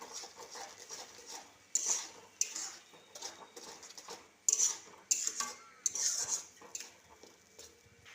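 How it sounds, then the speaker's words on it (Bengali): Pineapple chutney being stirred in a pot after sugar goes in, with a spoon scraping and clinking against the metal in irregular close bursts, fairly quiet, with no talk. "চিনি দিয়ে দিলাম। একটু নাড়াচাড়া করে"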